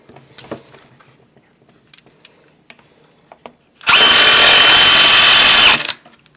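Power driver tightening screws on a railing with balusters, quiet workshop clicks and handling noises, then one loud steady whirring burst of about two seconds up close before stopping.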